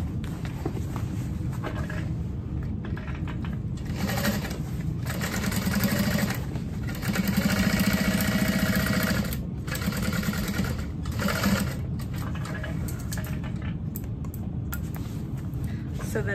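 A sewing machine basting the flap onto a messenger bag whirs in steady rapid stitching bursts, pausing briefly between runs, loud and close.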